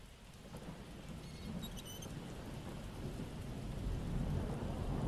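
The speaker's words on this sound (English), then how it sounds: "Nice rainy night." Rain falls steadily through a night thunderstorm, with low rolling thunder rumbling underneath and slowly growing louder, faint and distant, with no voices.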